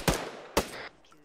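Two sharp gunshots ring out about half a second apart in a realism-unit match of the video game Operation Black Spear, each one followed by a short echoing tail.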